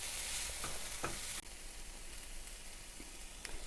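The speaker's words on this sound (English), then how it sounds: "So now I'm going to add my onion and green pepper to the chili mix." Onion and green pepper stirred into a sizzling chili mixture in a hot pan, a steady close frying hiss with soft scraping strokes, a brief louder burst at the start that drops to a lower sizzle.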